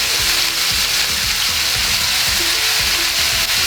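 Onions, carrots and celery hiss and sizzle loudly in a hot pan, a dense, constant frying crackle with occasional soft stirring bumps underneath, close up and without any voices.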